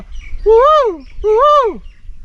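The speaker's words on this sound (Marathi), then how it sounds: "हा पावशा पक्षी आपल्या गाण्यातून सांगतो पेरते वा पेरते वा" Two loud, close, rising-then-falling whistled notes from a common hawk-cuckoo (pawsha bird), evenly spaced and clear against a quiet low rumble.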